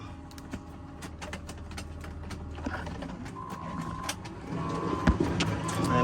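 A key scrapes and clicks into the door lock of a truck, giving sharp metallic taps and fumbling rattles up close, with a low engine hum or other background drone underneath.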